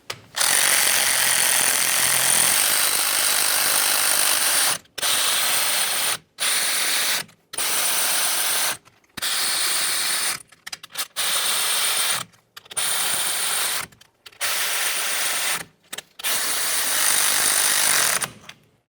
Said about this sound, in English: let's snug them up and then we'll torque these to 30